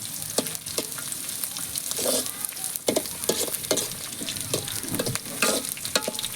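Garlic and green chillies sizzle briskly in a hot pan while a spoon scrapes and stirs them in irregular strokes, close and fairly loud, with no voices.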